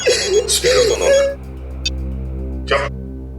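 A telephone rings in a quiet indoor scene of a Hindi crime drama, with short bursts of electronic ringing over a low steady hum and a voice speaking briefly before it.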